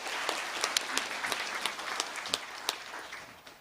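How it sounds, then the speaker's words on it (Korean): Staff at a monthly office assembly give a brief round of applause. The moderately sized group claps with distinct individual claps standing out, fairly faint and fading toward the end. "뜨거운 격려 박수 주시기 바랍니다"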